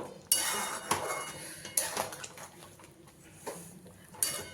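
Spoon scraping and clinking against a pan as sugar is stirred into a Bengali doi potol curry, irregular metallic knocks over a soft simmering background, close and fairly quiet.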